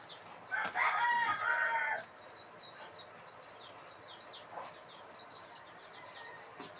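A rooster crows once, loud and fairly close, in a drawn-out call, followed by a long quiet stretch of insects and crickets chirring in the background.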